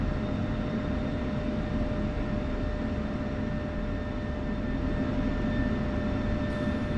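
Military jet rolling on a runway at Nellis AFB in the DCS flight simulator, a loud steady engine roar and hiss holding constant throughout with no talking.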